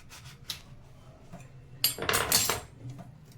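A knife cuts through a small kharbuja (muskmelon) with a burst of wet scraping and crunching close by, after quiet cutlery clinks, with no talk.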